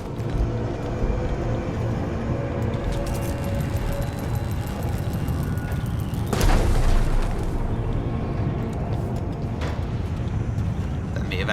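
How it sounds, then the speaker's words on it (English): A loud explosion booms in Dishonored 2, a sharp burst partway through under ongoing game noise, with a person talking around it. "maybe now would be the time to do an explosion because maybe they won't hear it"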